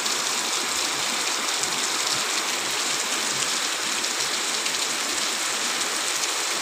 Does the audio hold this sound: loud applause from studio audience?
no